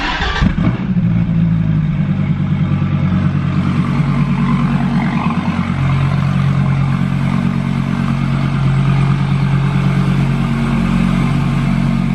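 A Gen 5 Dodge Viper engine idles steadily and loudly up close after an oil change, a continuous low rumble with a rattly mechanical clatter, after a brief start-up surge.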